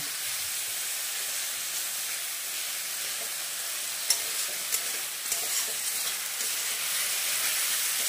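A paste of ginger, garlic and chilli fries in a pan with a steady, fairly quiet sizzle and hiss. A few faint clicks and scrapes from stirring come through, with no talk.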